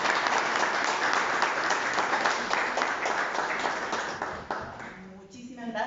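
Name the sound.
audience applauding at a book launch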